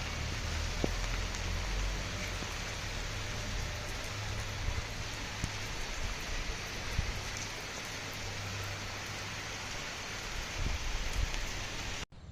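Steady rain falling in the hills of Nepal, a dense continuous patter on surfaces, even and moderately loud throughout with no voices.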